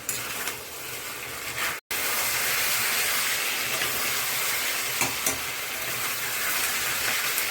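Country chicken is sautéed for a long time in a pan with whole chillies and chilli powder, a close and steady sizzle with soft stirring scrapes and no break except one short cut.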